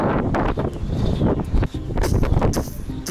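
Strong wind buffeting an outdoor microphone on a helmeted rider at sunset, a loud, continuous rumble with gusty bursts, with no clear speech over it.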